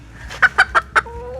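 Four short, evenly spaced clucks from a broody hen, one of a pair of hens, close and clear over a quiet background, followed by a faint thin tone.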